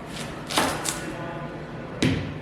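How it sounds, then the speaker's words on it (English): A knife cuts through an onion on a board with a few sharp, separate thuds spread across a couple of seconds, close by against a quiet kitchen background. "I'm going to chop my onion"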